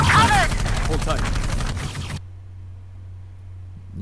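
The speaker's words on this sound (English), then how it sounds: "They must have heard the gunfire." Rapid bursts of video game gunfire crackle for about two seconds, then cut off to a low steady hum.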